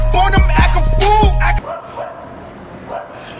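Dog barking several times in quick succession, loud and close, over steady background hum, then cutting off abruptly into quieter room noise.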